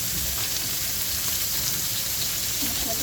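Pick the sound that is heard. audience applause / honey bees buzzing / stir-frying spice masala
stir-frying spice masala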